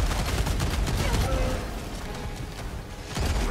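Shotgun blasts in the video game Helldivers 2 boom repeatedly amid dense, continuous battle noise, loud and close, with other gunfire and rumbling mixed in.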